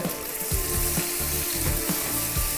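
A thick onion sliced lengthwise sizzles and fries steadily in a pan, a continuous loud crackle with a soft rhythmic tapping from a spoon or spatula underneath, no voices.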